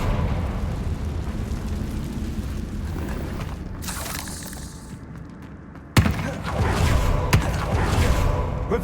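A Confringo blasting spell in a Harry Potter video game: a whooshing cast followed by a sudden heavy explosive burst and a rumbling aftermath over dense low game ambience.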